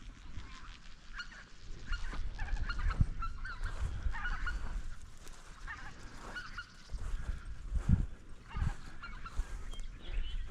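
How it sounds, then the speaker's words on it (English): Honking, agitated calls from a mallard duck near a pond and ditch, repeated irregular squawks at moderate distance over outdoor background noise and low rumbles. "An upset mallard over there."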